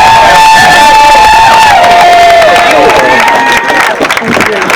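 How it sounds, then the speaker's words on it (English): A crowd claps, cheers and whoops loudly at a Moms for Liberty political event, a steady, dense roar with some sustained tones running through it, and no clear talking. "Can I get another big round of applause for this man"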